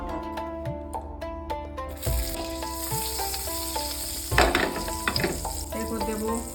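Ghee and butter mixed into hot white vegetable oil sizzle steadily in a pan, a close, continuous frying crackle punctuated by a few clinking utensil taps, with a louder burst of spattering midway.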